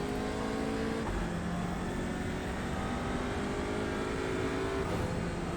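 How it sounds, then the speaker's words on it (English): An Audi RS3 LMS race car engine in the iRacing sim at Oulton Park Island, droning steadily at full throttle after a shift into third gear, a constant mid-level engine tone with a small shift near the start. "we're popping up into third gear there. And then it's just full throttle"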